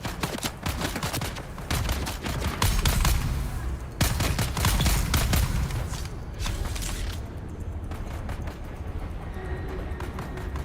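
Bursts of rapid gunfire crack through a Dune: Awakening game battle, dense volleys that rise and fall in intensity across the stretch with brief lulls between them.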